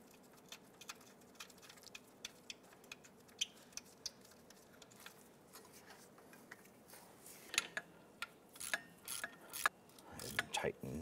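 A ratchet wrench tightens a spring retainer bolt on a 1997-2006 Jeep Wrangler during a leveling kit install, giving faint, quick clicking pawl strokes that turn into louder, irregular clanks near the end.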